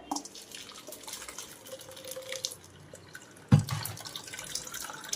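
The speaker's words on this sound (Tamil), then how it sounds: "ஜூஸை இப்படி கொஞ்சம் கொஞ்சமாக ஊற்றி இந்த மாதிரி ஃபுல்லாக வடிகட்டிட்டு" Watermelon juice trickles and drips through a kitchen strainer, soft uneven liquid patter, then a sudden louder splash near the end as more is poured in.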